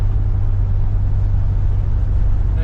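Low, steady V8 engine rumble from inside a moving 1963 Buick Riviera, a constant deep drone with road noise and no variation.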